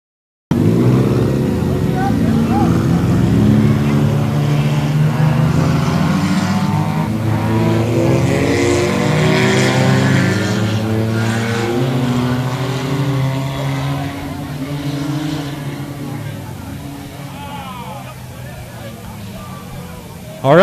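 Dirt track race cars with small four- and six-cylinder motors at a speedway race a tuner heat, their engines droning steadily at mid distance and slowly fading while an announcer talks over them.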